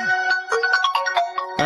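A phone ringtone signals an incoming call: a short, loud electronic melody of rapid bright notes, close by and heard alone.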